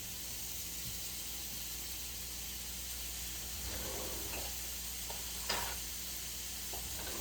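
Noodles with coconut oil sizzle steadily in a pot, with a constant hiss and a few faint spatula scrapes and clicks during stirring, quiet and without talk.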